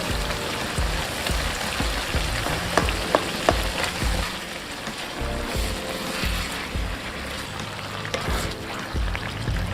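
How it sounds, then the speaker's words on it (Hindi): Tomatoes stirred into sizzling chicken karahi in a pan, a continuous frying hiss with occasional scraping clicks from the spoon, steady and close. "तो अब इसको अच्छी तरह से मिक्स कर लेते हैं इसमें"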